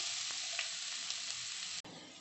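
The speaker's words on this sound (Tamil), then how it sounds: "வெங்காயத்தை நல்லா வதக்கிக்கலாம்" Chopped onion sautés in hot oil with a steady, even sizzle and a few faint clicks. Near the end, the sizzle breaks off briefly with a sharp cut, then resumes quietly.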